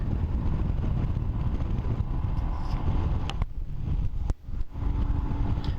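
Steady, loud wind roar buffets the microphone while riding a Royal Enfield Himalayan motorcycle in summer, dipping briefly near the end before the rushing noise returns.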